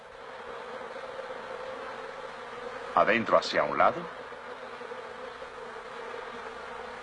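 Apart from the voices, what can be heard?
honeybees fanning wings to cool the hive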